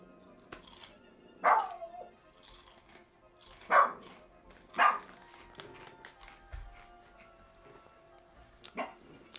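Dog barking a few times at a distance, short separate woofs spaced over several seconds against a quiet background with faint tones.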